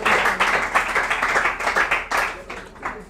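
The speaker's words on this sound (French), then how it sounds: "On l'applaudit fort encore." A school competition crowd claps, the applause made of uneven bursts of fairly close hand claps that keep going for a few seconds before fading slightly at the end.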